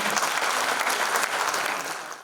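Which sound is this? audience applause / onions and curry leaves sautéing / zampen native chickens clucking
audience applause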